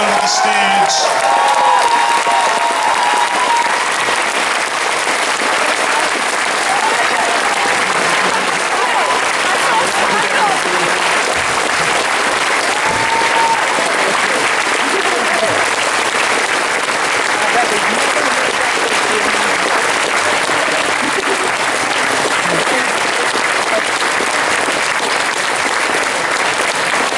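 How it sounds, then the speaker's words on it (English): Large convention audience at the Auto Assembly 2015 closing ceremony claps steadily and loudly for nearly half a minute as artists and guests head to the stage, with occasional cheers and voices mixed into the dense applause. "Give them a big round of applause as they head down to the stage."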